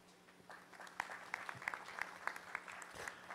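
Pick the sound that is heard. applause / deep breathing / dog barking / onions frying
applause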